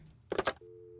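In the Nancy Drew video game The White Wolf of Icicle Creek, a dialed telephone call clicks and rustles briefly before a steady busy-signal tone sounds clearly, alone and close.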